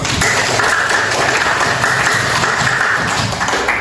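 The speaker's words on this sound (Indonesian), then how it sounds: "Tepuk tangan dulu." A class of students clapping their hands together, sustained, even applause at close range that fills the whole stretch without pause or speech.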